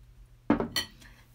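A quick clatter of a curry plate and cutlery, a couple of close, bright clinks over a quiet room.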